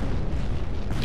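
An explosion in the Happy Wheels video game gives a loud, dense boom with a rumbling, noisy roar that fills the short moment without any voices.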